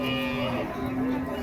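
An old native bull at the Vaniyambadi cattle market gives a low, drawn-out moo, fairly faint and continuous against a dense background of market noise.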